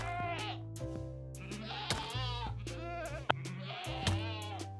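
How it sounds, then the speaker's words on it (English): Minecraft screaming goats bleat in loud, wavering cries, several long harmonic calls overlapping one another with brief gaps and a few sharp clicks between them. "at least one of these guys here is a screaming goat"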